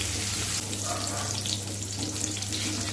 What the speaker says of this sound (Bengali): শুকনো মরিচটা ভেজে নিয়ে পেঁয়াজটা ভেজে নিই